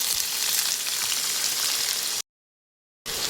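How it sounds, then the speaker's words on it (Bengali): Potato and onion pieces sizzle steadily in oil in a pan, a dense close crackle that cuts to total silence for almost a second and then resumes. "তো এবার আলু পেঁয়াজগুলো দিয়ে দেবো ভাজার জন্য।"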